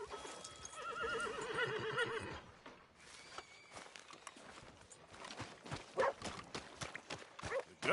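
A horse in the Western video game Red Dead Redemption 2 gives a loud, close whinny, then snorts as its hooves clop and shuffle on the ground.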